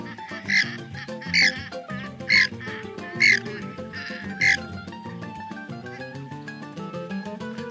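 A flock of purple swamphens calling at a wetland edge in Tanguar Haor, several loud nasal honking calls spaced about a second apart over a busy background of other bird sounds.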